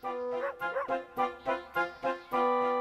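A dog barks in a quick series of short, high yips, about seven in a row, close and clear with no one talking.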